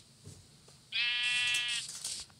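A single loud sheep bleat from Minecraft, a wavering nasal cry of about one second following quiet game ambience.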